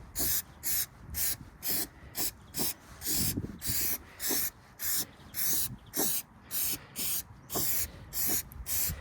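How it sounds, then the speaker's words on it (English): Repeated short bursts of aerosol spray, about fourteen even hisses in a steady rhythm, close and fairly loud with brief pauses between. "It's in an aerosol, and basically what you do, you just spray it on to that sticky area."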